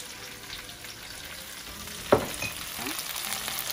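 Sliced peppers and sausage fry in a pan over medium heat with a soft, steady sizzle, joined near the middle by a single sharp clink and scrape as the food is stirred.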